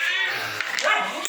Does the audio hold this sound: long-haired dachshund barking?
yes